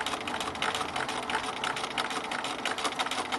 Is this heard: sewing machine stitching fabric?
yes